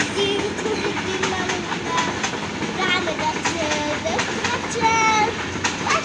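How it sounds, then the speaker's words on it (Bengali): A Bangladeshi passenger train with people riding on its roof pulls away in the afternoon, its wagons rolling with rhythmic clickety-clack and rattling squeals close by while people talk over the noise. "দুপুরের সময় ট্রেনটি ছেড়ে যাচ্ছে।"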